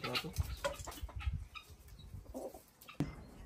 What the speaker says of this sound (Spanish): Mira la gallina, sedosa